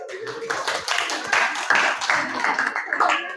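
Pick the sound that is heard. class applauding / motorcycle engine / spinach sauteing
class applauding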